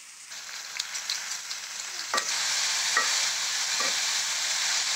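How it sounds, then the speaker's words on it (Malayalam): Sliced onions with garlic, ginger, curry leaves and salt sautéing in a pan for an egg pepper fry: a steady close sizzle that swells after a couple of seconds, broken by a few clinks of a stirring spoon. "നല്ലതുപോലെ ഒന്ന് വഴറ്റിയെടുക്കുക."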